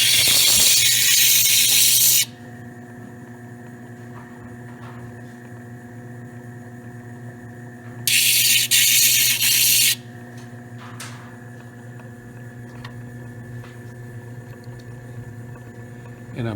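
A gemstone is cut on a preforming machine: a steady motor hum runs throughout, broken by two loud, harsh grinding bursts, one at the start and another midway, as the stone is pressed to the wheel.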